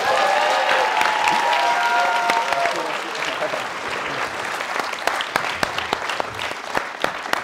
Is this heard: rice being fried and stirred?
no